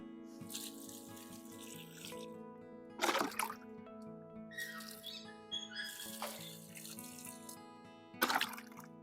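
Water poured by hand onto tomato, bean and cabbage plants in a home vegetable garden, a steady trickling splash with several louder gushes as more is tipped out, and faint birdsong in the background.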